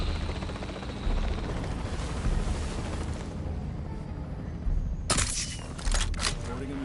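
A helicopter in Jurassic World Evolution 3 makes a steady, loud rotor roar under game ambience, and a sharp burst of impact or explosion noise cuts in near the end.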